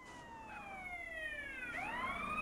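A police car siren in the video game GTA San Andreas Definitive Edition wails in falling and rising sweeps, fairly loud and alone, over a low hum of game traffic.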